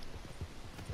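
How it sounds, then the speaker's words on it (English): Horse hooves clip-clop in the Red Dead Redemption video game, a quick irregular series of soft hoofbeats, moderately quiet, heard alone. "Oh, it's my old horse back."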